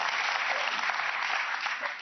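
A television studio audience at a political talk show claps in sustained, dense applause, loud and even throughout with no voices over it.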